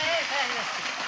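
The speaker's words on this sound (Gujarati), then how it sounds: "જીવન કાકા પાણી ચાલુ કરી દીધું હવે" Water is turned on at a farm and splashes and gurgles out in a steady close rush, with a voice speaking over it.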